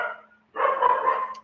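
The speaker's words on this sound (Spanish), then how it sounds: "uy, mi perrito" Pet dog barking indoors, a short bark, a brief pause, then a longer run of close yapping barks.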